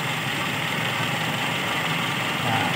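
Toyota Kijang Super engine idling during carburetor adjustment, a steady, fairly loud close-up drone with low rumble and vibration, running alone without talk.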